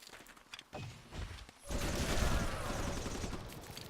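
Gunner units fire on enemies in Civilization Beyond Earth, starting with scattered soft pops and then breaking into a dense, continuous crackling volley that fills the back half.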